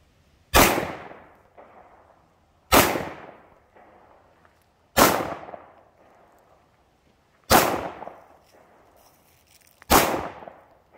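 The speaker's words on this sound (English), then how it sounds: "Nice shooting there, Pink Why, Dahlia." Five loud, sharp gunshots from a handgun being fired outdoors, spaced about two seconds apart, each with a short echoing decay and no talk between them.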